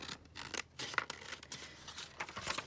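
A sheet of paper trimmed with scissors for ephemera makes quiet, close, crisp snips in a quick irregular series with brief pauses between cuts.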